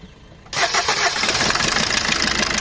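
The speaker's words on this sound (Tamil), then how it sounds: "இப்போ இந்த வண்டியை நான் ஸ்டார்ட் பண்றேன்" A diesel vehicle whose second cylinder is leaking compression cranks and fires abruptly, then settles into a loud, rough, rhythmic idle with a knocking clatter.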